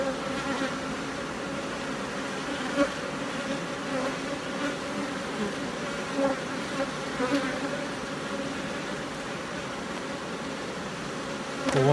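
Honey bees buzzing in an opened beehive with frames of brood, a dense steady hum from many insects close by, constant throughout with a few louder passes and no talking.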